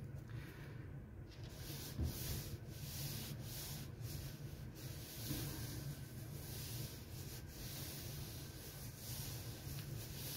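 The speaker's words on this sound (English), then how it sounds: "I don't know why I'm continuing to rub that." Hand rubbing a craft piece, giving a soft, continuous rhythmic swishing friction that is close but quiet, with no talking.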